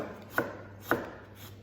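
A knife cuts ginger into thin slices on a cutting board, making two crisp, distinct chops about half a second apart, close and fairly quiet, with no voices.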